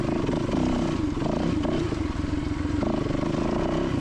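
An off-road motorcycle engine held at steady throttle on a rocky trail, a continuous close throbbing drone with rattling clatter throughout, no talk.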